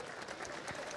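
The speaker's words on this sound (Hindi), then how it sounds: "तालियों के साथ स्वागत कीजिए।" Brief burst of audience clapping welcoming a guest onto a Bihar election debate stage, steady and fairly loud throughout.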